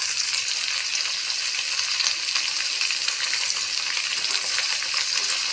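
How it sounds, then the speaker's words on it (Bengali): Eggplant pieces sizzle vigorously in a hot frying pan during home cooking, a loud, continuous crackling fry that holds steady throughout with no voices. "এবার আমি এতে বেগুনটা দিয়ে দেবো।"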